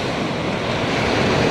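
Steady rush of waves washing onto Pasir Putih Bira beach in Bulukumba, Sulawesi, with wind noise buffeting the microphone throughout.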